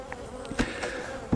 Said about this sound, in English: Yeah, nice. Lots of bees.